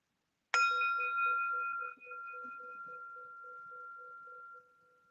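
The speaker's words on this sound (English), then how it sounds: "Let's begin our practice with a bell and a bow." A meditation bell is struck once to open a practice session, giving a single clear ring with a bright attack and a long, slowly fading tone that sustains alone in a quiet room.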